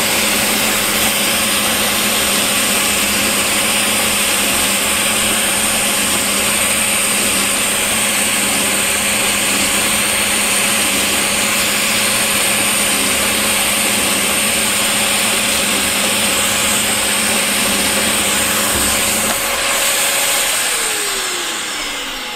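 A pillar drill counterbores a knife handle in a workshop, giving a loud steady motor hum with a constant whine and cutting noise for about twenty seconds before the motor is switched off and spins down.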